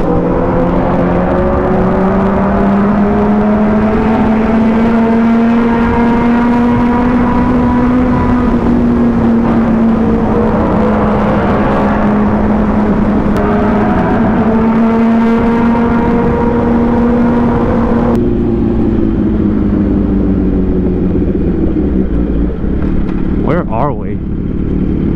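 A 2018 and a 2007 Yamaha R1 sport bike riding along a road, their engines droning loudly and steadily close by with rising and falling pitch, wind rushing over everything, easing off near the end.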